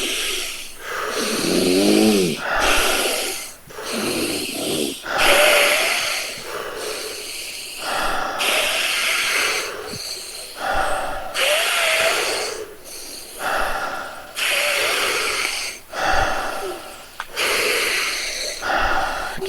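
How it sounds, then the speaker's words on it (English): Someone breathes deeply during a guided meditation, drawing in loud, close inhales and pushing out exhales in a slow, steady rhythm of about a dozen breaths over twenty seconds, heard alone without talking. "Breathe deep for it."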